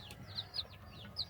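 Newly hatched village chicks peeping, a few thin high-pitched chirps in quick succession over a low background hum.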